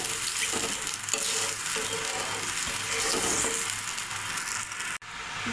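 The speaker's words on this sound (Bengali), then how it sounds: "এখন জল দিয়ে দেবো।" Water poured into a pan of sizzling cooked spice paste with cashew paste, giving a strong, continuous hiss and bubbling with rhythmic stirring scrapes, ending in a sharp break and slightly quieter sizzle.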